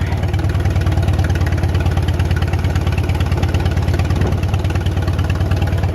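An old John Deere tractor engine idling with a deep, steady low grumble, loud and close, running evenly throughout with no talking.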